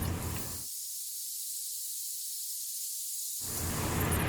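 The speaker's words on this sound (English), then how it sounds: "So I'm going to start by rinsing this with water." Distilled water is sprayed to rinse a 3D print, a steady close hiss of spray that fills the clip, thinning in the middle stretch before returning at full strength; no talking.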